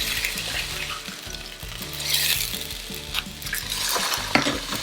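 Steak and vegetables searing in a pan for a Vietnamese noodle meal kit, a steady sizzle with utensil stirring and scraping clatter over it, close and fairly loud, no voices.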